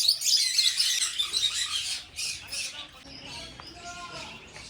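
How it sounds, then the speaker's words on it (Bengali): Many birds calling loudly inside an ashram in Bandel, a busy chorus of chirps and squawks that is strongest at first and then thins out, with a person speaking over it. "ভিতরে পাখি রয়েছে,"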